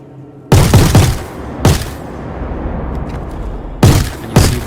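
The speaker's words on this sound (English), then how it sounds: "Okay, so just getting ready to shoot my first guy." Gunfire in the Star Citizen video game: four loud, sharp shots, one pair close together and another pair near the end, each with a booming tail over a low background rumble.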